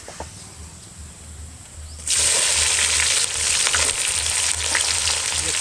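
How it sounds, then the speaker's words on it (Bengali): Onion frying in hot oil with cumin, dried chilli, bay leaf and whole spices: quiet hiss at first, then a sudden loud, bright sizzle that bursts in and stays strong and close, crackling throughout, with no voices. "পুরো পেঁয়াজ হালকা করে ভাজি নিয়েছি"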